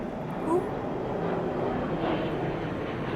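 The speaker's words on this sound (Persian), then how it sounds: "یه سری هواپیما داره رد میشه" An airplane passes low overhead on Kish Island, a steady, distant-sounding roar lying under a voice.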